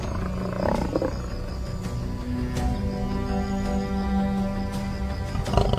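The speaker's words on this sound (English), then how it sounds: "Dust billows as roars thunder across the plain." Lions roaring in a ferocious fight on an open plain, with lionesses attacking; a continuous dense roar and growl mix fills the scene, loud and sustained with a few sharper bursts.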